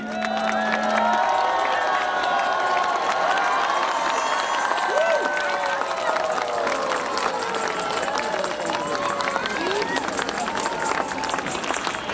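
A dense, loud crowd at an Easter celebration in Bhaktapur, Thimi, claps and cheers as balloons are released, with shouting and many overlapping voices running steadily throughout.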